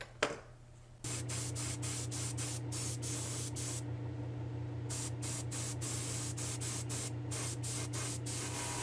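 Steady hissing spray from an aerosol spray-paint can in long continuous bursts with brief pauses between them, close and fairly loud over a low background hum.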